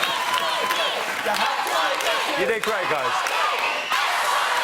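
A studio audience at a live show of The X Factor UK cheers and applauds, a dense, continuous crowd roar heard under someone talking.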